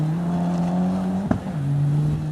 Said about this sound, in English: Here with the Mitsubishi Evo 9,